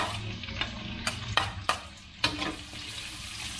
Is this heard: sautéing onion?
yes